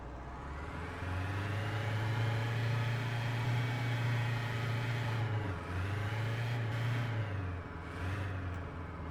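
A video game truck's engine drones loudly and steadily while the handbrake locks it into a skid, the low hum dipping briefly in pitch a few times, with no talk.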